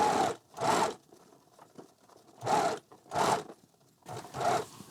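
Sewing machine running in short bursts with brief pauses while stitching binding around the curved edge of a hat stabilizer for a lightweight 5-panel trail cap; fairly close and moderately loud.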